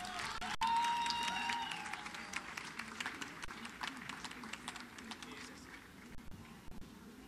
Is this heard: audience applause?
yes